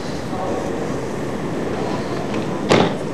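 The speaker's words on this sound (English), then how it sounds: "It's the Docklands Light Railway, and it's only been here since 1987." A Docklands Light Railway train, a driverless automatic light rail service in London's Docklands, rumbles steadily nearby with broadband running noise and a brief brighter squeal or hiss near the end.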